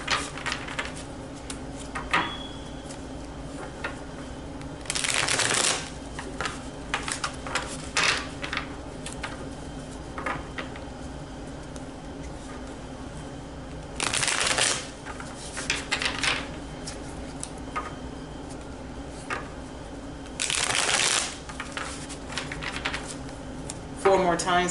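Tarot cards shuffled by hand in three loud bursts of riffling about ten seconds apart, with quieter card handling and faint background sounds between them.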